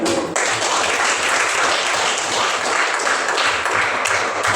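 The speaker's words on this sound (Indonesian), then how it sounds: "Kita beri tepuk tangan untuk tempat teman kita." Students in a classroom give a classmate a dense, steady round of applause, loud and close, lasting several seconds without a break.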